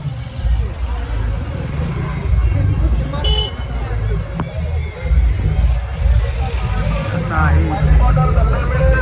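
A dense crowd at the afternoon Kalbhairavnath chariot festival procession in Sonari fills the air with a steady babble of many voices, mixed with passing vehicles and an occasional horn.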